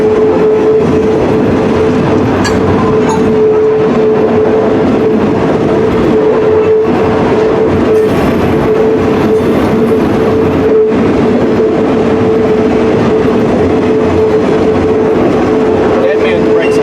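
A Cass Scenic Railroad train rolls steadily along the line from Bald Knob, with continuous loud rail rumble, clattering wheels and a sustained mechanical tone, while people talk now and then over the noise.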